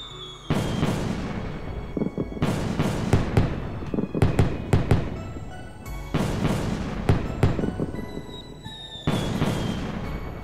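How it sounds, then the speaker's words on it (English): Fireworks burst in the video game Trails in the Sky the Third, a run of loud, crackling explosions arriving in clustered volleys with short pauses between them, no voices. "Fireworks, they're so pretty."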